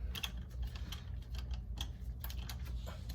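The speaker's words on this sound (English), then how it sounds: "And we'll just start ratcheting it." A hand ratchet loosens the oil drain plug under a 2008 Acura TL Type S, with rapid light clicking in quick bursts over a low steady hum, close by.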